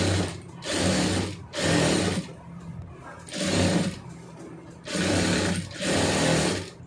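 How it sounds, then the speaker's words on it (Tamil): Sewing machine stitching a plain blouse in a tailoring setting, running in five loud bursts of a second or so each, separated by short pauses, with no talking. "அப்படியே கரெக்டாக ஒட்டுலேயோ தையல் போட்டுருங்க"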